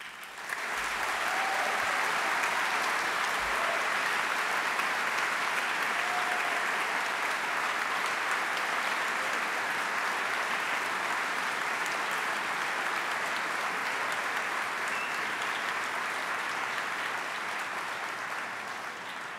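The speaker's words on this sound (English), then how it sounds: "have all of you give a big round of applause for the next 2 slides that will show their names" Long, sustained applause from a large audience at a computer animation festival awards ceremony, even and dense clapping holding steady for nearly twenty seconds, with a faint whistle or cheer rising briefly.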